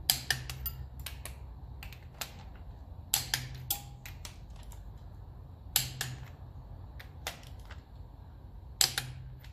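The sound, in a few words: torque spanner clicking at set torque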